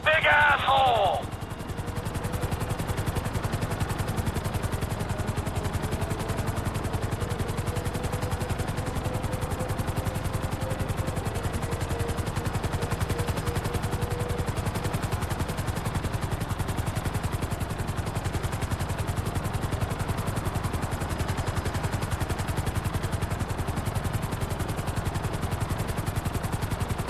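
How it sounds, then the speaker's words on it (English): A helicopter hovers over a construction site in GTA 5, its rotor and engine a constant broadband roar throughout, with a brief bright chirp at the start and a faint tonal whine drifting under it. "I need you to hold the chopper above it while I take a look."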